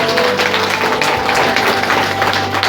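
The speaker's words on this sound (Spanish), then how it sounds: "Esas palmas, hermanos" An evangelical church wedding congregation applauds, a dense, steady wash of clapping from many hands filling the room, loud and continuous under a low hum.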